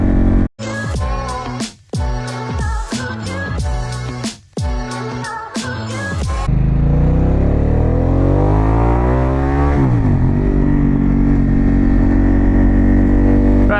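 A Harley-Davidson Pan America motorcycle fitted with a Vance Hines exhaust, heard while riding. Rhythmic music plays for the first half, then a loud, steady engine drone takes over, rising and falling in pitch as it revs and shifts.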